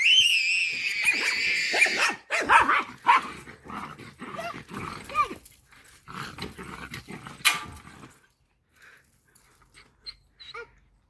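A dog growls and barks close by in several bursts, with some wheezy sounds, before tapering into quieter, sparse noises.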